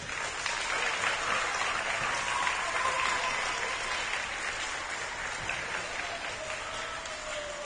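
An audience at a primary school sports awards night applauds for coaches and teachers, a steady, dense crowd clapping that carries evenly through the whole stretch and eases slightly toward the end.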